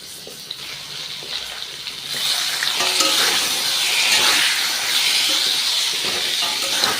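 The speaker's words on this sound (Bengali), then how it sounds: "সজনে ডাঁটা আর কুমড়োটা দিয়ে দিয়েছি," Drumstick pieces and pumpkin fry in a pan with a mild sizzle that swells into a loud, steady hiss after a couple of seconds, with occasional stirring scrapes and no talking.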